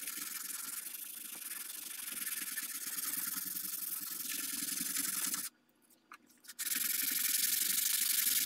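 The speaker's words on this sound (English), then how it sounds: "I'll start with the sandpaper on a block, and then after that I'll pull it across the curved surface" A wooden handguard for a military rifle stock is sanded with sandpaper on a block, producing steady, close, continuous rasping strokes that stop briefly for about a second before resuming.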